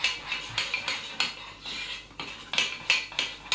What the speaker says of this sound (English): And you give that a good stir in.